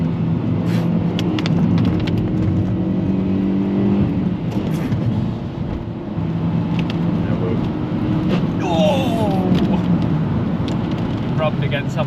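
Cheap £300 used car accelerating hard from inside the cabin, engine note rising in pitch through the gears with rising harmonic sweeps, under occasional talk from occupants.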